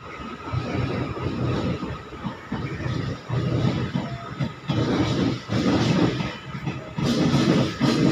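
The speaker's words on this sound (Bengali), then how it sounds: "আমাদের ট্রেন এসে পৌঁছে গেল ব্যান্ডেল জংশনের 5 নম্বর প্ল্যাটফর্মে" The Sealdah Balurghat Express rolls into Bandel Junction, platform 5, with a steady rumble and faint rhythmic wheel clatter, heard from inside a sleeper coach, slowing as it arrives.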